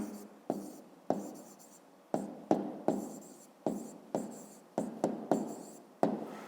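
A pen writes out a math answer on paper: about a dozen short, close scratching strokes in an uneven rhythm, quiet and on their own.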